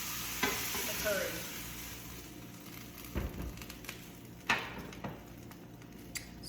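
Chicken curry ingredients browning in a pot, a quiet sizzle with scattered stirring scrapes and clinks, fairly faint and irregular.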